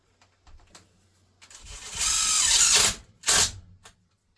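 Power drill driving tech screws into aluminium for a camper van's raised floor: two separate bursts, a longer loud whirring run and then a shorter one, with quieter handling clicks in between.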